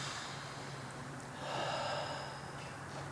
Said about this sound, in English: Let's hear the breathing.